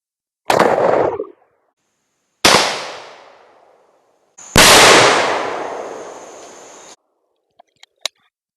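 A Stevens 512 20-gauge shotgun fires Winchester Super X 2.75-inch game loads outdoors: three loud, sharp blasts spaced apart, each with a long fading tail, followed by a few faint small clicks.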